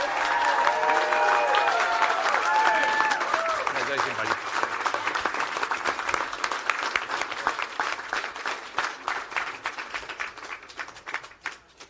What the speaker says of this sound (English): let's give a big round of applause to Isaac, his family, his partners, and everybody here